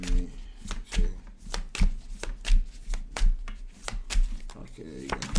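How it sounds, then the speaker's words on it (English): A deck of cards is riffle-shuffled in quick repeated bursts at close range, about eight crisp flurries in a steady rhythm, with a voice speaking briefly between them. "One more shuffle."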